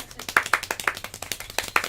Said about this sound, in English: I do want to quickly learn the double clap.